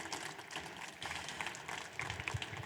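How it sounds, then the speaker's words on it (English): An audience at a greentech startup festival gives warm applause for a startup team, sustained clapping from many hands heard faintly and at a distance. "Please, warm applause for Frank and his team."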